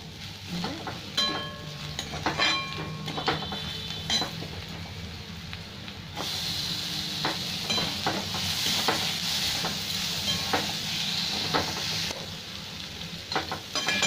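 Ground coriander-cumin spices and chopped tomato fry for black lentil dal, a steady close sizzle broken by frequent spoon scrapes and clinks against the pan, growing slightly brighter and hissier midway.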